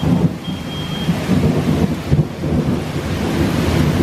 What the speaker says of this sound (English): we're getting pounded with rain in the house